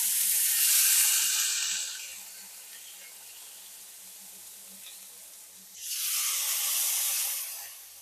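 A steak sears in hot oil in a pan, giving a loud broad hiss that fades to a low sizzle and then swells loudly again near the end.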